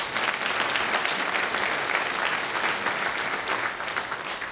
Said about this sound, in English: please give them a big round of applause too